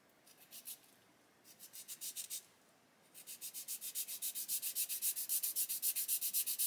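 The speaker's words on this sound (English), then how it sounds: "what I'm going to do now is sand this here" Sandpaper rubs the plastic flange face of a 1/32 scale Merlin model engine part in quick, close back-and-forth strokes, first a few short bursts, then a long steady run of rhythmic scratches, quiet and alone.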